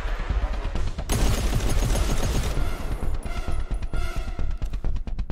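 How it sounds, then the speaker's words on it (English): Sustained automatic gunfire from a machine gun in a first-person shooter video game, loud and dense with rapid overlapping shots and booming impacts, continuing for several seconds with no pause. "this machine gun is a joke"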